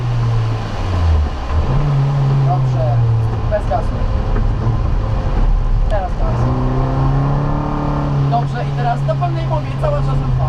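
Car accelerating during a driving lesson, a steady engine drone that rises and holds under the throttle, with an instructor talking over it throughout.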